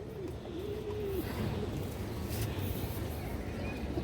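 Pigeons cooing close by, soft low rolling coos repeating over a steady noisy background, with no speech.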